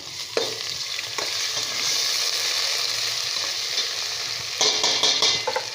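Steady sizzling of browned onions frying in a pan with garlic ginger paste, with occasional stirring scrapes and a louder burst of crackling near the end.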